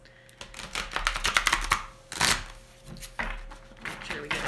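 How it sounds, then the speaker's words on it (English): Tarot and oracle cards on stiff, poor-quality cardstock being shuffled up close, bursts of rapid flapping and riffling clicks in uneven clusters, with a voice murmuring faintly underneath. "Sorry for all these shuffling noises over here."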